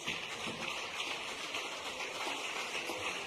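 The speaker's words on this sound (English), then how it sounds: "A round of applause for Xiao." Studio audience applauding a contestant on a TV talent show, a steady dense patter of many clapping hands at moderate distance, continuous without pause.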